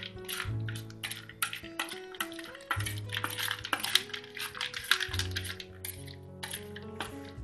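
Peanut chaat being stirred together with chopped green coriander, a busy run of close metallic clinks and scrapes of a spoon against a bowl, uneven in rhythm and ringing lightly.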